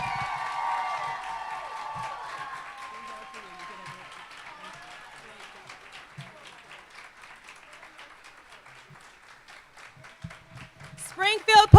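Applause and cheering from a crowd at a school district convocation fade into scattered individual claps, with voices and talk beneath, before a sharp burst of louder sound at the end.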